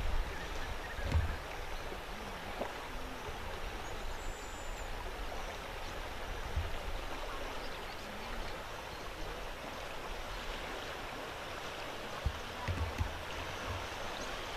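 A flooding river, the Rio Barra Nova near Umari in Caicó, flows with a steady, broad rushing roar that holds level throughout, with a few faint knocks and bumps close by.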